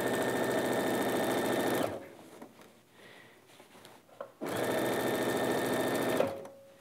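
A sewing machine runs in two steady bursts while stitching a coat seam, loud and close with an even mechanical hum, and a quiet pause of fabric handling falls between the two bursts.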